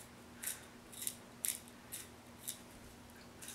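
A pencil turns in a wide sharpener, giving a string of about six sharp, crisp crunching clicks at an uneven pace, close but fairly soft over a quiet hum.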